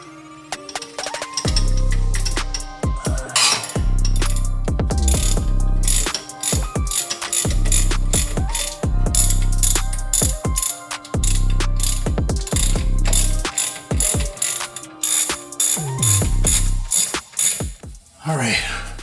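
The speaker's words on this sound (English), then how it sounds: "But I'm gonna use the MoJo Ninja torque wrench on that." A MoJo Ninja torque wrench tightens the rear differential carrier bolts on a 2020 Subaru WRX, its ratchet clicking loudly and close in long rapid runs, broken by short pauses between bolts.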